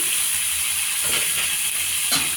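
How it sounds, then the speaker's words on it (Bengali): Water poured into a hot pan of chicken and potato curry, giving a loud, steady sizzling hiss that swells in short bursts and fills the whole moment up close. "একটু জল দিচ্ছি, জল দিয়ে"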